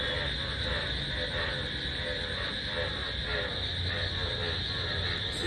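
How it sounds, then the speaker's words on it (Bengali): Frogs croak steadily outdoors during rain, a dense rhythmic chorus pulsing continuously at moderate volume alongside a constant background hiss. "বাই দ্য ওয়ে তোমরা কি শুনতে পাচ্ছ ব্যাঙের আওয়াজ?"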